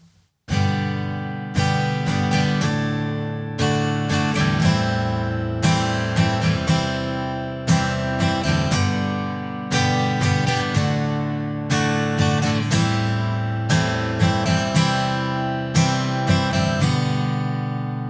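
Acoustic guitar strummed in a steady repeating rhythm, moving through several chords with crisp attacks and ringing strings, played alone.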